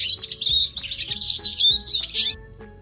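A voice imitating a baby chick's chirping: a rapid run of high, thin cheeping peeps, close and fairly loud, lasting a couple of seconds before stopping.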